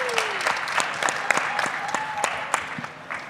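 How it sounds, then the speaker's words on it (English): Applause at the 2024 Solheim Cup press conference for the winning United States golf team, a sparse room of people clapping with distinct, sharp individual claps at moderate volume. "Everyone give them a round of applause."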